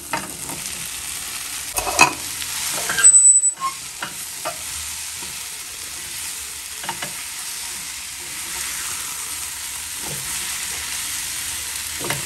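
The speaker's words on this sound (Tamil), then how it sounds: "மஷ்ரூமை நல்லா போட்டு கிளறி விடுங்க" Gentle sizzling of mushrooms frying in a pan, with occasional scrapes and clinks of a utensil stirring, plus one louder clatter early on.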